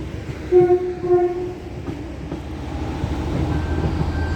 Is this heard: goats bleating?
no